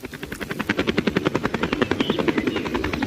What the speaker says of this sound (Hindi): तभी हेलीकॉप्टर की आवाज आने लगती है